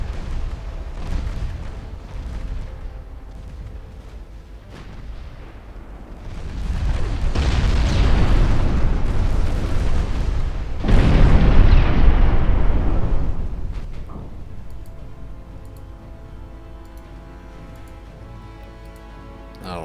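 A naval battle in Ultimate Admiral Dreadnoughts, with 5-inch gunfire against a convoy and a torpedo strike on a transport, gives a loud, rumbling swell of booms and blasts that builds twice and then fades to a ticking background.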